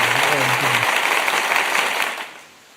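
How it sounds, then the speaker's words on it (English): An audience breaks into loud applause that fills the space, with a voice briefly sounding underneath at the start, then the clapping fades out quickly at the end. "Let's give him a applause."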